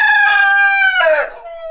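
A rooster on a farm crows loud and close, one long harmonic call that climbs, breaks and trails off, heard alone with no talking.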